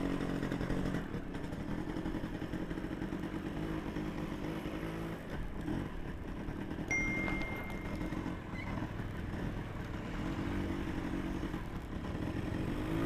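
An old motorcycle's engine drones steadily while riding, with a constant low rumble and wind noise throughout and no pauses.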